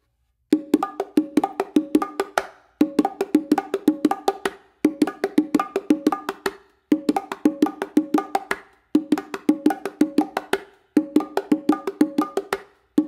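A bongo pattern of crisp slaps, including a closed slap on the macho drum, and damped muffled strokes repeats steadily, one bar after another with tiny pauses, close and clear, no voices.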